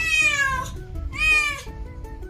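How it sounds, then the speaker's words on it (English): A cat meows twice, close and loud: two drawn-out, falling cries separated by a short gap, with a faint musical backing underneath. "cat,"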